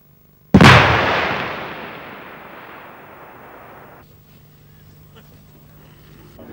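A single sharp, very loud blast from an AT-12T anti-tank weapon fired live at an ERA-armoured target during an outdoor demonstration. The boom is followed by a long rolling echo that fades over several seconds into quiet outdoor ambience.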